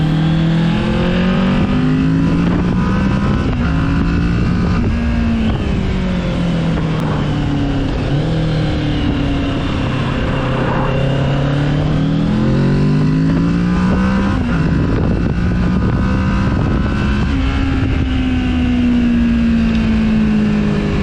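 A Kawasaki Z650 motorcycle accelerating on the road, its engine note rising through several gears with dips at each shift, heard from the rider's position under heavy wind rush, loud and continuous throughout.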